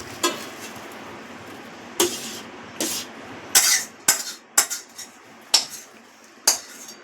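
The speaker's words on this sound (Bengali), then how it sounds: "লোটে মাছটা একটা থালাতে ঢেলে নেব।" Boiled lote fish tipped from a metal wok onto a plate in a kitchen: a series of sharp, separate metallic clinks and clatters spaced by short pauses, close by against a quiet background.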